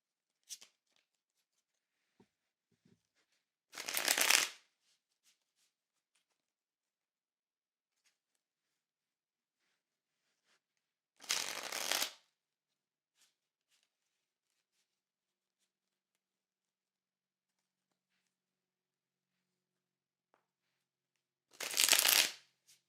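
Tarot cards are shuffled in three short, close riffling bursts spaced several seconds apart, with near silence between them.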